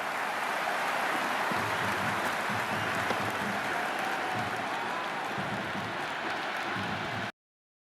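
A large stadium crowd in the Cricket 26 video game roars in a steady, dense wash of cheering and applause during an IPL match between RCB and SRH, sustained at a constant level before cutting off abruptly.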